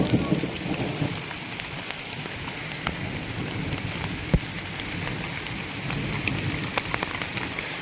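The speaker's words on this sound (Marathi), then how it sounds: "पाऊस पडतोय म्हणजे तिथं थांबलाय झाडाखाली" Rain falls steadily on the Konkan countryside, a broad, even patter close by, with occasional sharper drips and taps standing out, and no one speaking.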